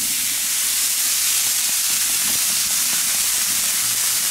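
Bacon-wrapped meat sizzles on a hot fire plate griddle at an outdoor barbecue, a loud, steady, broadband hiss that runs without a break and with no one talking.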